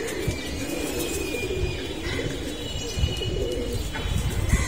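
Pigeons coo and rustle on a rooftop during hot weather, soft repeated low cooing with a few faint chirps and flutters over a steady outdoor background.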